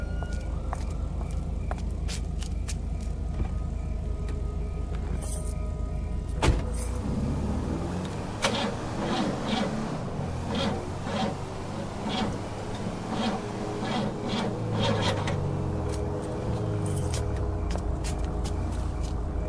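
A car engine cranks and fails to catch, with repeated starter whirs and sputters over a steady low rumble, close and continuous with no voices.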